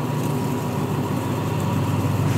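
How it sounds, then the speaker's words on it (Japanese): A train's diesel engine hums steadily as the train creeps along a rock wall, giving a constant low rumble that holds at an even level with no other sounds. "彼方からディーゼルエンジンの音が聞こえてきます。"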